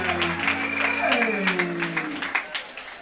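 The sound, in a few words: wedding guests applauding and cheering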